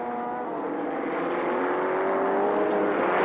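Touring race cars at Calder, including the number 6 Systime Computers Commodore, howl past in a steady high-pitched engine whine that rises slightly in pitch, moderately distant and continuous with no talking.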